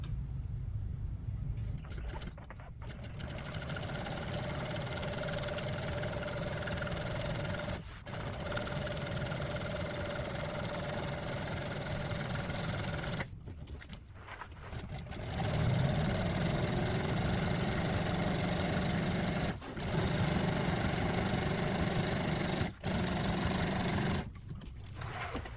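A sewing machine stitches black thread into dark brown upholstery material for an MGB seat, running in long steady bursts with several brief pauses between runs, no talking heard.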